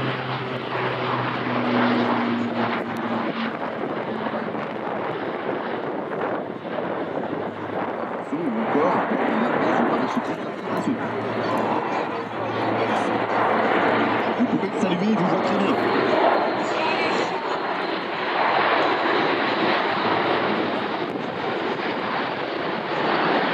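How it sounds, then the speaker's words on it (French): An Airbus A400M military transport aircraft applies power and climbs away after an approach at Alpe d'Huez. Its loud, sustained propeller and engine drone fills the whole stretch, with a voice speaking over it. "C'est parti pour la remise de gaz et la reprise d'altitude."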